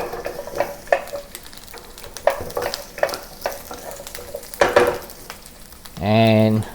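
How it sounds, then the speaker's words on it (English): Garlic and onion sizzling in oil in a pan while cooking sweet and sour chicken, with scattered stirring clatter and sputters, then a louder, steady sizzle swelling near the end. "When the garlic turns aromatic, then I'll add the vegetables one by one. I'll add the onion first."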